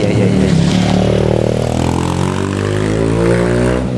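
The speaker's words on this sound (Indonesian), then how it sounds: "Duh, siapa naik motor tuh Mbak?" A motorcycle roars past close by, its engine pitch sliding down as it passes and fades, with a loud continuous whine throughout.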